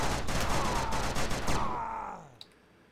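Rapid video game gunfire, a dense run of loud repeated shots that rattles on for about two seconds before cutting off and fading, followed by a single faint click.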